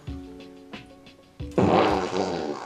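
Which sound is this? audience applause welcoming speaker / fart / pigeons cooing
fart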